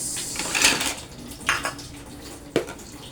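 Pots and metal utensils clink and scrape while eggs are cooked with tomato in a home kitchen, three distinct clattering hits spaced apart over a low background hiss.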